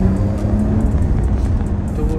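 A BMW M240i with a Stage 1 tune and double resonator delete, back box exhaust, drones steadily while driving, loud and close with a constant low rumble.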